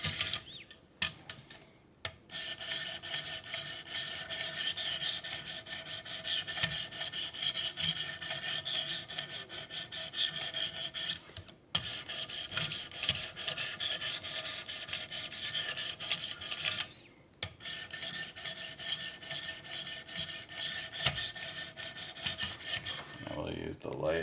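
Spyderco CPM-M4 Native 5 knife edge being sharpened on a 400 grit stone: steady, close, continuous rasping strokes that run on for long stretches, broken by a few brief pauses.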